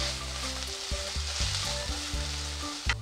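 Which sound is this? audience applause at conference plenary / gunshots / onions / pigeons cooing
onions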